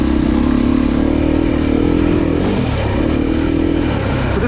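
A Beta race edition dirt bike engine runs loud and close for the whole stretch, a steady hard drone with slight swells in revving, recorded at a 2023 demo day.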